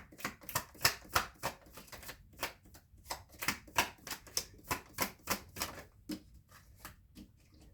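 A deck of cards being shuffled, with a rapid run of crisp riffling snaps that come in quick rhythmic bursts, close and fairly quiet.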